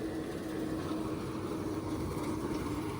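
A tractor pulling a rotavator super seeder while sowing wheat labours with a steady, loud, dense engine roar and rumble, heard close and unbroken with no talking.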